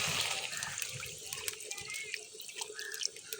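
Water runs into a pot of sautéed chicken and potato curry, a close, steady pouring splash with small gurgles and drips throughout.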